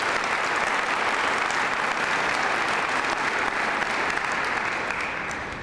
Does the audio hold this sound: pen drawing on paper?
no